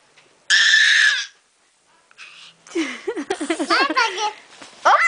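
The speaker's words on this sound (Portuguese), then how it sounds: "Para de gritar que vai doer sua garganta." A young child screams in a long, piercing, high burst, then a brief pause, followed by more screaming and whiny, wavering cries, close and loud indoors.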